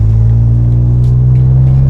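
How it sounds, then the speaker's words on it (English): A 1981 DeLorean DMC-12 engine rumbles loudly and steadily up close, a deep droning note with slight revving, no talking. "Oh, it revs pretty good, actually."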